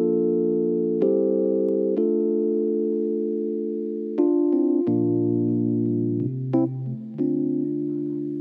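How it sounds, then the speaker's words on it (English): Electric piano plays chords with shifting voicings for the verse of a song. It sounds as a warm, sustained keyboard part with chord changes every second or so, alone and with no voices. "The verse is actually all just electric piano with just different voicings."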